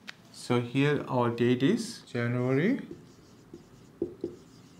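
A pen writes a date by hand on a sales journal page, faint scratching under a teacher's spoken explanation, with a few short strokes left alone near the end.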